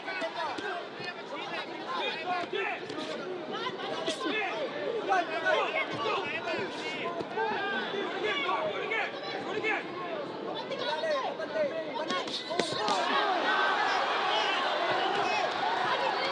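Boxing arena crowd at a professional bout in Manila, a dense continuous roar of chatter and shouts with scattered yells rising near the end, heard alone without a clear single voice.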